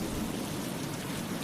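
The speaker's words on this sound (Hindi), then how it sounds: "अचानक से ये जोरदार बारिश भी शुरू हो गई है" Heavy rain pours down steadily, a dense, even hiss of falling water with no pauses and no voices.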